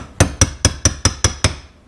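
A hammer knocking hardware back out through drywall while fitting a post plate for an estate gate, seven sharp evenly spaced metallic strikes in quick succession, close and loud, with no talk.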